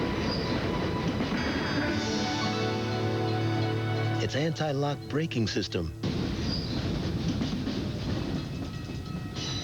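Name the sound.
train running on rails in Buick LeSabre commercial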